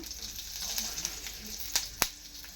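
Green chillies and coconut frying in hot oil for a chutney give a steady, faint sizzle with a couple of sharp crackles near the end.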